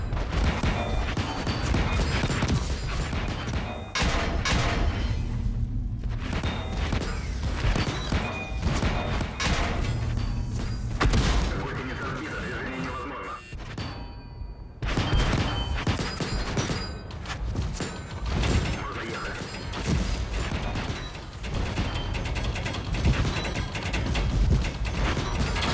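An IS-7 heavy tank in World of Tanks takes a barrage of hits, with repeated metallic clangs, ricochets and thuds arriving in dense bursts and a few brief lulls amid battle noise.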